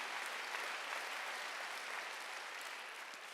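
A church congregation at a Wednesday worship service applauds, a dense, even wash of many hands clapping that holds steady throughout and fades only slightly.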